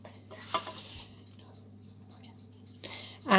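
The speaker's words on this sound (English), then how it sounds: "the technical term, as some of you will probably already know, for mixing butter and sugar together is creaming" Butter and caster sugar are creamed together in a bowl for a lemon and almond cake, giving soft stirring and scraping with a few light clinks. A louder clatter comes near the end.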